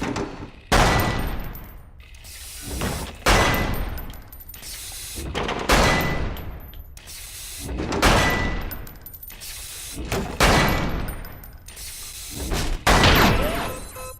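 Bursts of gunfire on a firing range in a PSVR training simulation game, loud rapid volleys repeating roughly every two to three seconds with short gaps between them.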